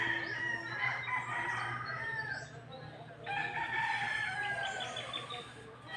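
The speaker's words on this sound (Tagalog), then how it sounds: "grabe kasaba sa mga manok" Several roosters crow repeatedly, overlapping one another at moderate distance, with steady background noise and a faint hum throughout.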